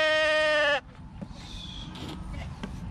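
A sheep from a flock in rural Haryana, India lets out one loud, wavering bleat up close, then fades into quieter outdoor background noise.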